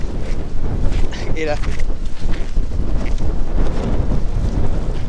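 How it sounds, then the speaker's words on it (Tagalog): Strong wind buffets the microphone on an island beach, a steady low roar throughout with a brief voice partway through. "lakas ang hangin dito"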